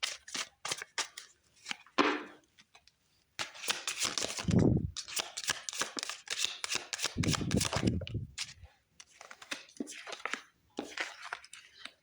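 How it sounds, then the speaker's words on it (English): A deck of tarot cards is shuffled and cut by hand: quick crisp riffles and flicks in short bursts, separated by brief pauses, heard up close. "These cards are chopped."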